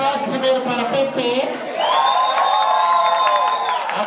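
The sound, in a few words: club audience applauding and cheering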